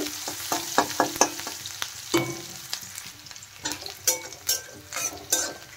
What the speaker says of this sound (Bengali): পেঁয়াজ একটু হালকা ভেজে নেব।